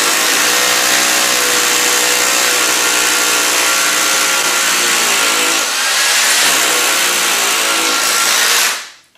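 A power drill bores a hole into a wall to hang a heavy mirror or picture, its loud, steady whine grinding continuously for about nine seconds before cutting off abruptly.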